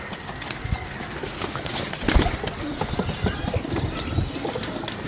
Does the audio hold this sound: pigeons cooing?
yes